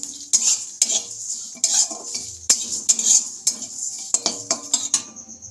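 Fennel and cumin seeds dry-roast in a pan while a metal spatula scrapes and clinks against it in quick repeated strokes, close and sharp, with only a faint sizzle beneath and no talking.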